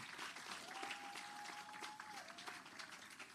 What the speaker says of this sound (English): Please give them a bigger round of applause.